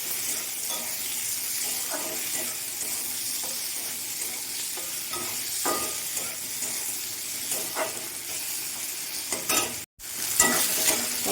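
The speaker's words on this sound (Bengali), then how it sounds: "টমেটোগুলো একটু নেড়ে চেড়ে নিলে টমেটোর যে কাঁচা আঁচড়ে গন্ধ, সেই গন্ধটা থাকবে না।" Tomatoes are stirred and fried in a pan, a steady close sizzle with recurring spatula scrapes and knocks, briefly cut off near the end before the frying resumes.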